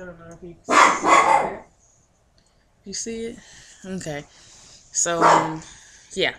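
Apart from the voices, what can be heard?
dog barking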